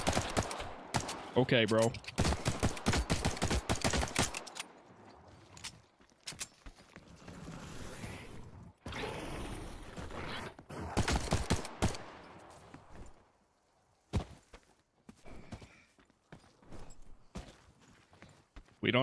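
Gunfire rings out in the video game The Cycle: Frontier. Sharp shots come in rapid bursts, close and loud, with quieter gaps and shuffling in between, and a voice speaks briefly.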